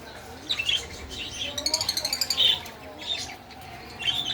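African lovebirds in a breeding aviary chirp in bright, repeated bursts, with a quick run of rapid wing flaps in the middle and more chirps scattered around it, close by.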